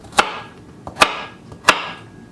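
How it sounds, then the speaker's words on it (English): Knife slicing carrots into large pieces on a cutting board for beef bourguignon, with three sharp, evenly spaced chops, loud and close, and no voice. "Carrots we're going to do in large slices."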